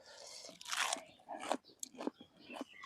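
Raw cabbage crunched while eating, several crisp bites and chewing crunches close to the mic, in short irregular bursts with quiet gaps.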